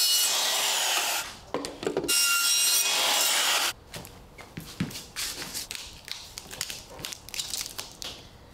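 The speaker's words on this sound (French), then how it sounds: "Découpe avec une scie à rabattre." A flush-cut saw cuts through a roller shutter guide rail during a window replacement, with dense rasping strokes up close at first, a brief pause, then a long run of rougher, irregular sawing and scraping that grows quieter and more broken.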